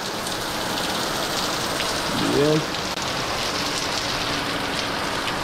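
Steady rain falls outside in Jamaica, a dense, even hiss of drops hitting surfaces, with a brief voice speaking once in the middle.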